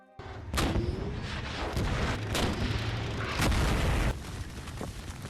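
A White Tiger tank is blown up in a series of heavy, close booms and blasts. Sharp detonations come one after another over a rumbling roar, then ease off near the end.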